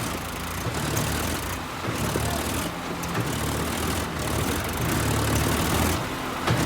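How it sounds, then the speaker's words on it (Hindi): Tractor engines idle and rumble steadily while towing, a dense, continuous low drone with slight pulsing throughout and no clear talk. "दोनों ट्रैक्टर साथ में ताकत नहीं लगा सकते पहली बात।"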